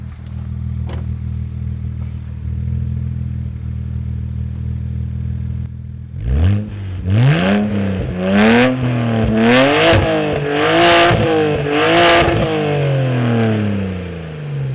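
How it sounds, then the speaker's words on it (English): A BMW E92 335xi engine with a catless downpipe exhaust idles with a low rumble, then revs hard several times in rising and falling bursts, loud and raspy, with no talking. "He's gonna rev it up a little bit"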